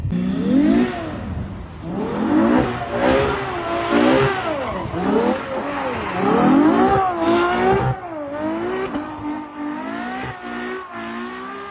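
A sports car engine revs repeatedly, pitch rising and falling in loud sweeping bursts, then settling into a steadier whine.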